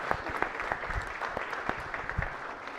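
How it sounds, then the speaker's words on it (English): Applause fills the Maryland Senate chamber in Annapolis during a floor session, a steady, fairly soft wash of many hands clapping at some distance, with no talk over it. "Could you all please give a rousing applause to this wonderful, wonderful group of youngsters"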